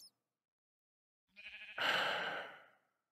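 A single drawn-out sheep bleat from a video game rises after a long silence and fades away, clear and alone.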